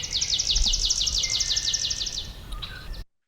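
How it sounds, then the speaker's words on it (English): A swamp sparrow sings a rapid, even trill of repeated sweet notes, clear and fairly close, lasting about three seconds before fading out. "We'll listen to it again here. Swamp sparrow song."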